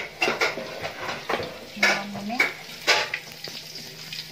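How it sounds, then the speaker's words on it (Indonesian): Shallots sautéed in a pan at a school Indonesian cooking event, with a quiet sizzle beneath repeated utensil scrapes, clinks and stirring strokes, close to the microphone. "ada bawang merah untuk ditumis"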